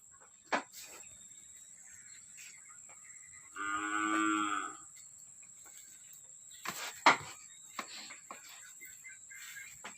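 A single low moo from a cow on a cattle farm carries from a short distance in an otherwise quiet setting, with a few scattered clicks and knocks around it.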